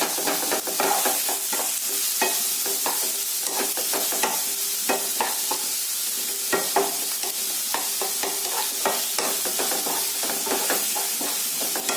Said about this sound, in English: So mix it well.